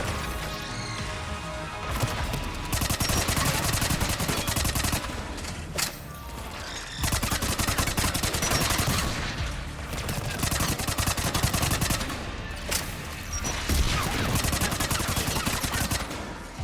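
Gunfire in the video game Mass Effect 3 pounds in long, dense bursts of rapid automatic shots with impacts and crashes, loud and nearly continuous with brief pauses.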